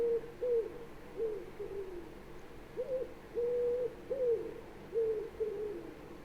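Repeated low, tonal owl hoots, about eight calls in an uneven rhythm, clear against a quiet background.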